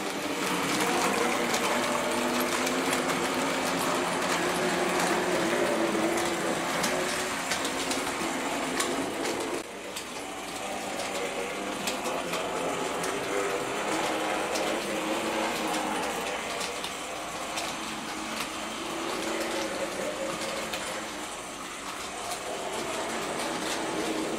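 A Hornby R761 Kneller Hall model train clatters steadily along its track with a continuous mechanical rattle and hum, loud and close throughout.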